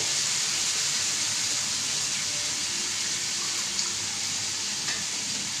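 Water pours steadily into a pan of fish curry with cooked spices, a continuous close hiss and splash running evenly throughout with no talking.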